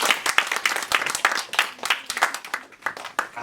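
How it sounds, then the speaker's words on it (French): Audience applause in a French media library during a Haitian culture performance, dense overlapping hand claps, near and steady. "Il faut les applaudir quand même."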